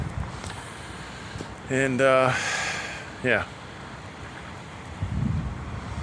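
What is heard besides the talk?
wind blowing on microphone outdoors beside truck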